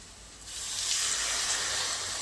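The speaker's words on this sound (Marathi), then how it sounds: "पाणी टाकायचं आता" Water pours steadily into a hot pan of spice masala fried in oil, producing a continuous hissing, gushing sound that starts abruptly and holds without talk.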